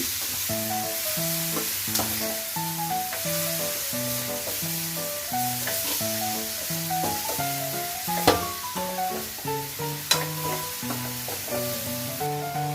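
Small fish sizzle steadily in a hot pan as they are stirred, a continuous crackling fry with occasional scraping knocks, all beneath a loud layer of background music.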